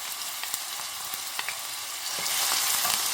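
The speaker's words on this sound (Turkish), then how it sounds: "Zeytinyağı ekleyelim. Kızmasını bekleyelim. Ya kızdı soğan ekleyelim." Onion sizzles in hot olive oil in a pan, a steady close crackle and hiss with scattered pops that grows denser and louder toward the end; no talking.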